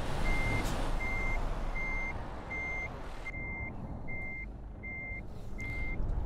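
Reversing beeps from a truck parking in Euro Truck Simulator 2 sound as eight evenly spaced, steady electronic pulses over a constant loud engine rumble, with no talking.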